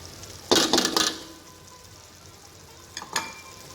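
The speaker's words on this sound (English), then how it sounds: "so now we add in our mixed spice and our chili powder" Mixed spice and chili powder hitting hot oil with softened green chilies in a pan for chicken varuval, a loud burst of sizzling and clinking near the start, then a quieter hiss and a second short flare.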